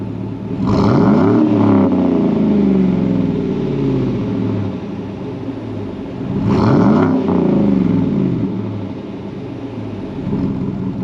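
A Chevy Suburban Premier V8 with a knock-off Magnaflow catback exhaust runs steadily nearby, with two louder revving swells rising over a constant engine drone.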